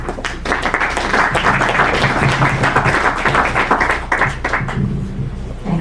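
An audience applauds a speaker at a conference session, steady clapping from many hands that holds evenly for several seconds before thinning out at the end.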